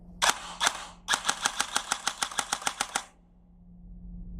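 An ICS MK18 electric blowback airsoft rifle fires two separate shots, then a rapid, evenly spaced burst of about a dozen sharp mechanical clacks. The shots are close and crisp, with no talk over them.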